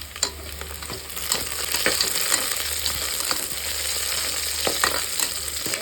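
Vegetables with green chillies sauté in hot oil in a pan for vegetable biryani, a loud, close, steady sizzle punctuated by repeated spatula scrapes and taps.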